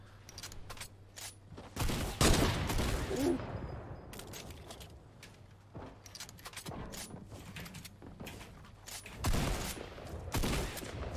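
Bursts of rapid video-game cannon fire come in loud volleys with quieter stretches between them, over a steady low hum.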